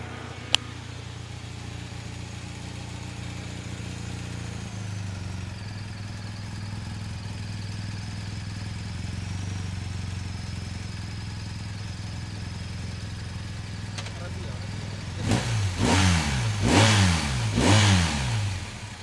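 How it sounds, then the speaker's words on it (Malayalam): A BMW R 1250 GSA motorcycle idles steadily up close, its boxer engine giving a low, even rumble. Near the end the exhaust barks through three sharp throttle blips. "അപ്പോൾ ഇപ്പോൾ നിങ്ങൾക്ക് അതിൻ്റെ എക്സോസ്റ്റ് കാര്യങ്ങളൊക്കെ ഞാൻ കേൾപ്പിച്ചു തരാം."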